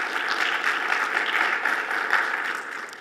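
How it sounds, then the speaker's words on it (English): An audience applauds for a presenter at a tech talk, with steady, even clapping that stays full and constant before tapering slightly at the end. "Let's give her a round of applause."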